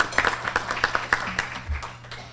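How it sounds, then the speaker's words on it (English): Audience applause at a civic luncheon for a speaker walking up to the podium, a brief patter of moderately loud claps that thins out within a couple of seconds. "Please give him a round of applause as he comes to the podium"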